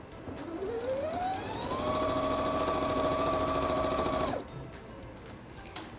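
Under a steady room hum, a sewing machine stitches all the way around a fabric pet bandana. Its motor hum climbs in pitch as it gets up to speed, runs at a steady rate for a couple of seconds, then stops abruptly.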